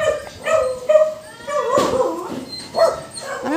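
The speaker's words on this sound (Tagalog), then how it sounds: "Marami silang aso." Several dogs bark and yelp in short bursts at moderate distance, with a few whiny, higher yips mixed in.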